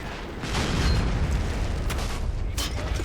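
Artillery in the World War II game Men of War Assault Squad 2 on the Eastern Front, deep booming rumble swelling in then rolling on with a couple of sharper cracks.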